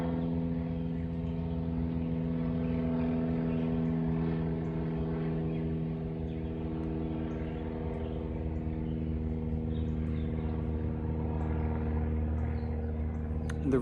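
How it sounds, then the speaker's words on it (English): A steady, droning engine roar with a low rotor-like hum holds constant throughout, loud and close, with no voices over it. "let's wait for the helicopter to speak over it."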